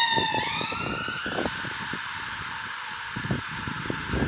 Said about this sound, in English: Oh, sorry about that. It's an ambulance.